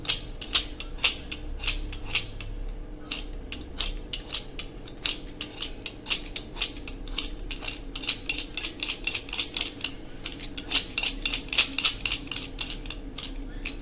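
A 4B drawing pencil pared with a cutter blade while the pencil is rotated. Close, crisp scraping strokes repeat in a fast, fairly even rhythm for about fourteen seconds, with no talking.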